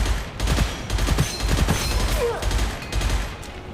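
Gunfire in the shooter game Gunfire Reborn, with repeated bursts of shots and impacts in a dense, fairly loud volley that carries on over several seconds with no voice.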